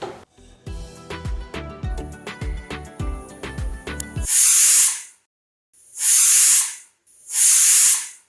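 After a stretch of music, a pressure cooker cooking tomato gravy lets out three loud, close bursts of hissing steam, each lasting about a second, separated by short silent gaps.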